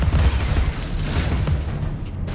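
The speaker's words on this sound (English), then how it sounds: "I can shoot them with my handy-dandy gun" Gunfire from a handheld weapon in the video game Alice: Madness Returns, a steady run of loud, dense shots with booming low-end bursts lasting a couple of seconds, no talk.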